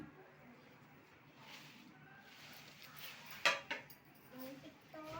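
A non-stick pan and a fry pan are handled while being unpacked as a gift, giving faint scattered knocks and a couple of sharp metallic clinks under quiet room sounds, with speech in the background.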